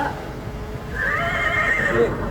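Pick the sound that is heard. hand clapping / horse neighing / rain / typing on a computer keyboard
horse neighing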